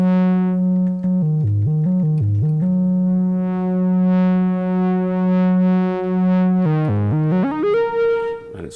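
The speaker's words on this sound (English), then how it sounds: "It's also playing a sine wave at the moment" A Moog Grandmother synthesizer plays a pure, steady sine wave tone holding one pitch, briefly dipping and stepping between notes near the start and end, with no voices.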